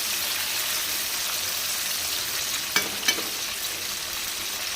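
Cauliflower florets fry in a pan as a Sindhi-style potato and cauliflower dish is cooked, giving a steady, fairly faint hiss of oil with two brief louder crackles partway through and no talking.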